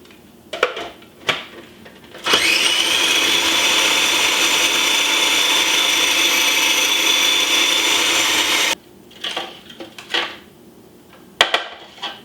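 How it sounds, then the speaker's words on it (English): A kitchen food processor chops ingredients for Thanksgiving cornbread dressing, a loud steady whirring roar running unbroken for about six seconds, framed by a few short clatters and knocks before and after. "And drop them in the food processor."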